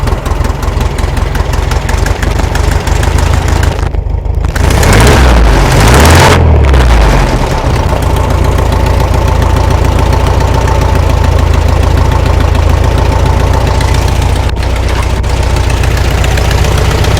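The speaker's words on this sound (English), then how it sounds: "now that this engine is where it's supposed to be, timing wise, raise the idle some." VW Beetle engine in an MG kit car idles loud and close after a timing adjustment, a steady low rumble with a knocking beat that briefly swells as the idle is raised, with no talk.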